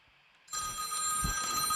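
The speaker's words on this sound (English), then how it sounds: "I'm getting another phone call again." A telephone rings loudly during a live heavy metal guitar stream, its steady electronic bell tone starting abruptly after a moment of near silence and continuing without pause.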